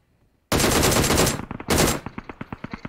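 Automatic weapon fire in PUBG Mobile: a long, loud continuous burst, a short pause, a second burst, then a trail of rapid evenly spaced single shots, with no talk.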